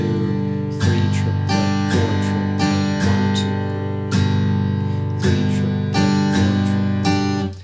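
A guitar plays a bouncy shuffle rhythm, repeated chord strums in a loping swung pattern, clear and close with no talking.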